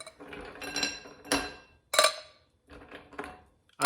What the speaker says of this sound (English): we're going to put some ice in the glass. Some nice ice cubes here.